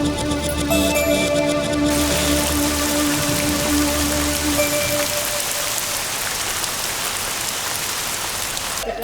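Steady rain falls outdoors in a continuous dense patter, with a sustained musical drone fading out beneath it partway through, then the rain carries on alone.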